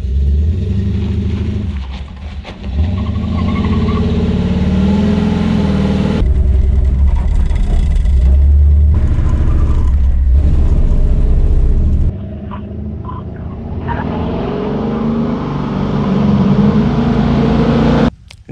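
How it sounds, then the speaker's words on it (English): A car fitted with a spool differential rumbles along the street while its tires bark and scrub on the pavement through turns, with the engine droning loudly and steadily throughout. "you could hear the tires barking when I would turn"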